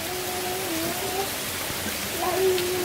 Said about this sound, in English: That was like a straight downpour in a short amount of time.